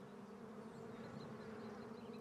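Honey bees at hives in the Cévennes give a steady, dense buzzing drone, close and continuous with no talk.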